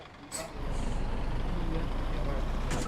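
Heavy truck engine in the Euro Truck Simulator 2 video game on a Sumatra highway route, a steady loud low rumble with a brief hiss near the start, under a player talking.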